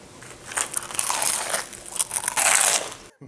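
Close, crisp crunching as someone bites into a Venetian-style fried mozzarella in carrozza sandwich, several crackly bites in quick succession with no talking.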